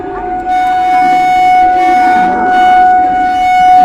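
A passing train sounds a long, steady, loud horn tone that holds throughout, with a rumbling rail noise beneath it, close by.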